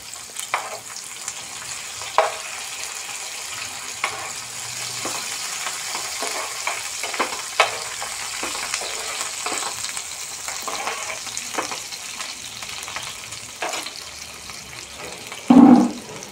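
Curry leaves sizzle in hot oil for tomato pachadi, a steady low crackle with occasional light ticks and stirring scrapes, and a brief louder clatter near the end.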